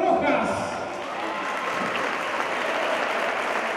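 Warm applause from a crowd at an award ceremony, with a loud, steady patter of clapping throughout, slightly stronger at the start.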